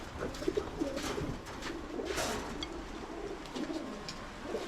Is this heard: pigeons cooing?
yes